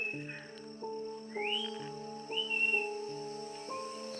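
Short rising whistles sound a few times over a steady outdoor drone of insects or frogs, fairly faint and distant.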